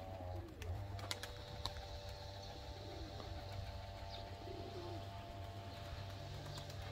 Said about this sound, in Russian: А, это сизый мой голубь.